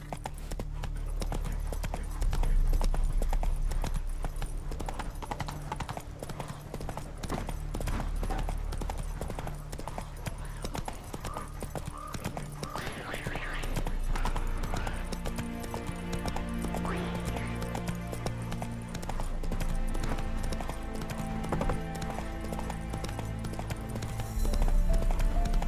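Horse hooves galloping in the video game The Witcher 3, a steady rapid clip-clop running throughout under game ambience, with a brief whinny and a change to mechanical sounds midway.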